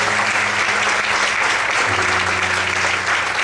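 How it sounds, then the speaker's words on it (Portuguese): Church congregation applauding during an evangelical sermon, steady dense clapping close and loud throughout, with a low organ or keyboard tone underneath. "Você pode aplaudir esse Deus?"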